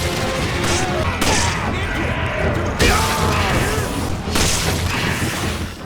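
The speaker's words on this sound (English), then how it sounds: "headshot sounds in this game are satisfying as hell" Headshot gunshots ring out in Resident Evil 5, several sharp, loud bangs with heavy booming tails and crashing impacts spaced a second or so apart amid game noise.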